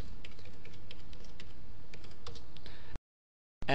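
Keys on a computer keyboard clatter in a quick run of close, crisp taps as a ping command is typed at a Windows command prompt, followed by a short silence and a burst of other noise at the end.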